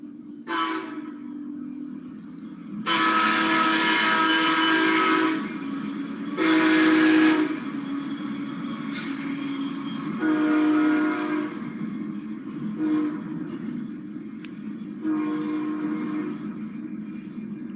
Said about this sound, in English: A lot of army vehicles on that train.